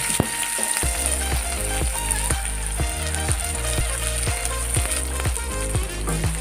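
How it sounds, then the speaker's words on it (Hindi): Four finely chopped onions sizzle and fry steadily in a pan with browning cumin seeds for matar chaat, a continuous close crackle broken by regular soft stirring knocks, with no talking. "अब हम इसमें डालेंगे 4 छोटे कटे हुए प्याज,"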